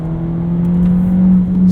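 A 2019 Volkswagen Jetta 1.4T S with a six-speed manual pulls hard above 3,000 RPM, heard from inside as a steady, close engine drone with a strong low hum and a faint rising whir, no voices.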